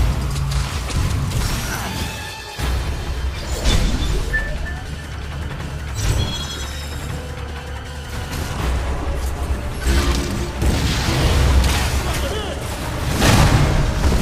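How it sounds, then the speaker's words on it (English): In Metroid Other M, missile shots and explosions boom and crash through a tense battle. Irregular blasts land amid rumbling effects, and voiced dialogue runs over much of it. "Now, use your missile."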